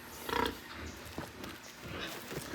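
Free-range pigs on a farm give a few short grunts at moderate distance, with one louder burst early and scattered softer snorts after, over outdoor background noise.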